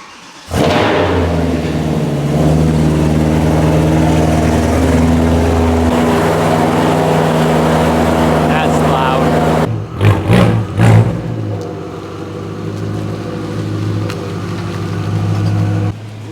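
BMW M3 engine after a cold start on a winter day, a steady loud idle drone for about ten seconds, then a few sharp revs and a settling idle, with no talking.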